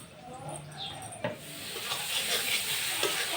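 Spiced potatoes stir-fried in a pan give off a steady sizzle with occasional scraping stirs, close and moderately loud, with a single sharp knock partway through.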